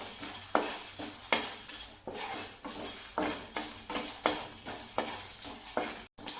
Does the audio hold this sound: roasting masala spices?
yes